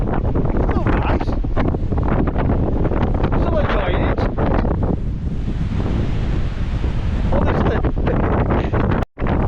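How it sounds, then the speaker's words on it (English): Strong wind buffets the microphone in a constant roar while sea fishing at Fleetwood, UK, with surf rumbling underneath; someone says a few words partway through. "It's a bit windy and a bit uncomfortable"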